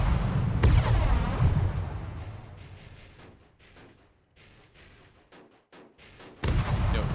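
A tail gun firing in a video game demo, loud booming bursts at the start that trail off into quieter scattered shots, then another heavy blast near the end.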